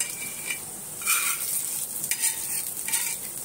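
Surmai fish frying in hot oil in a pan, a bright continuous sizzle and crackle close up, swelling in bursts as pieces are moved, with no voices.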